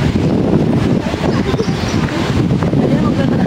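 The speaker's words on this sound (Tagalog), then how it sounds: "Sobrang hangin. Malamig pero masarap." Strong, cold wind roars steadily and loudly across an outdoor grassland park, a dense unbroken buffeting close to the microphone, with faint voices underneath.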